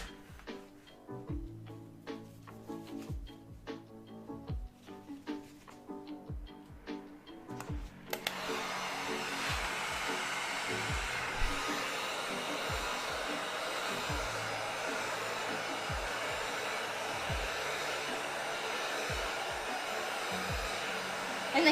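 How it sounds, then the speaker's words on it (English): A heat gun roars on steadily, warming a piece of Monster Hunter Barioth cosplay armor, after a stretch of scattered knocks and taps; the blowing hiss runs unbroken and fairly loud to the end. "We gotta heat up the next one."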